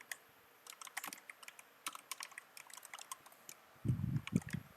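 Rapid computer keyboard typing while writing HTML div code, irregular bursts of light clicking keys close by, with a few thumping low knocks near the end.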